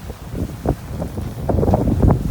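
Wind buffets the microphone aboard a small sailing boat at sea, a steady rough rumble with gusty swells and no talking.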